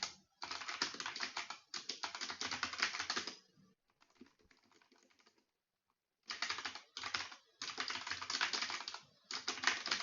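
Rapid bursts of keystrokes on a computer keyboard while coding in the Emacs editor, close and clear, coming in dense runs separated by short pauses and one longer quiet gap, with no talking.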